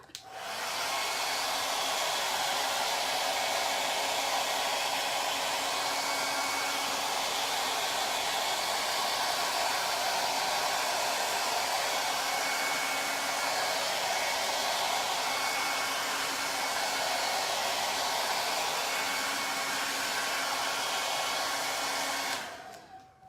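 A hair dryer blows steadily and loudly close up for over twenty seconds, drying paint on a buffalo plaid sign, a constant rushing whine that cuts off abruptly at the end.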